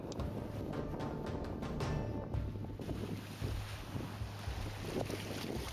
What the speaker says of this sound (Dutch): Hier krijg je een indruk van de toegenomen golfhoogte nadat de wind een flink stuk over het water heeft gewaaid